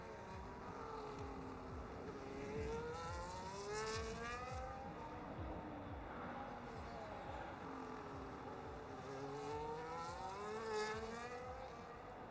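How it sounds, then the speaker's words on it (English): Racing cars streaming out of the pit lane in a racing video game during a Las Vegas Grand Prix round, a steady layered roar of many engines with rising and falling whines, continuous and loud throughout. "we see the entire grid flooding out of the pit lane at the moment"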